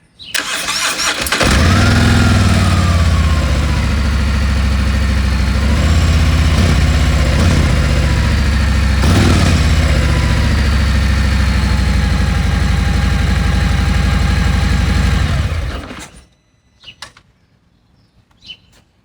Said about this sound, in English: I simply just took and started the bike up with Denny on it